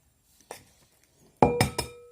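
Eggs cracked against a bowl in a home kitchen: a light tap, then after a pause three sharp, close clinks in quick succession, each with a short ringing tail, in an otherwise quiet room.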